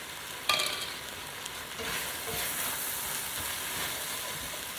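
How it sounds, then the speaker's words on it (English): Vegetables fry in a pan as flour is sprinkled in to start a roux for potato soup: a steady, close sizzle with a brief clatter near the start, no talking. "I'm just gonna go ahead and sprinkle the flour in just like this"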